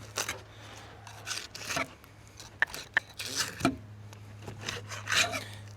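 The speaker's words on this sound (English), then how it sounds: "you can also just fillet the fish like normal" A serrated blade rasps through the flesh of a freshly caught, bled triggerfish, giving intermittent scraping strokes close by over a low steady hum, with faint voice in places.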